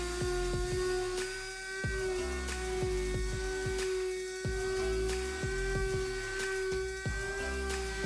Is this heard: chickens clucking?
no